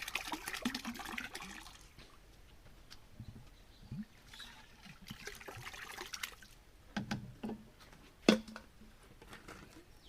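Bacillus subtilis liquid poured into a metalaxyl mix, giving soft trickling and splashing in uneven bursts, faint and close, with handling knocks in between.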